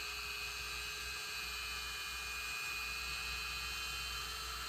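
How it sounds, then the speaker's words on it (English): A Dremel rotary tool running on its lowest speed grinds away part material in a steady, continuous high whine with a low hum beneath, close and unbroken. "so we're gonna Dremel those out just on the lowest speed"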